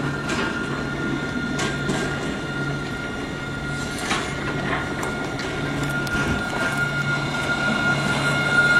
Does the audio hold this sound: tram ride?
yes